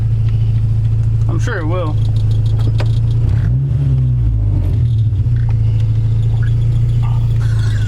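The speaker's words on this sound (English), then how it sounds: "Ever since you put that O-ring in, it just keeps dying at idle." A Honda car engine idles with a steady low rumble, dipping and wavering as it falters toward stalling, while people talk nearby.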